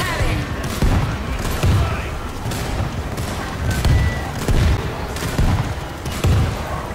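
Rapid bursts of gunfire in the World War Z video game, Moscow level on extreme difficulty, repeating as loud booming volleys against a constant din of combat noise.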